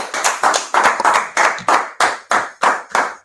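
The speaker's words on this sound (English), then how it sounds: "Clap it up. We'll clap it up." A group of people claps in unison at the close of a class, sharp rhythmic claps in repeated bursts, loud and close with no talking.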